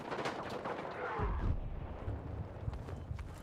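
Submachine gun fire in the shooter Battlefield 6, with bursts of rapid shots and a heavy booming blast midway, all loud and near, plus scattered distant battle noise and no talk over it.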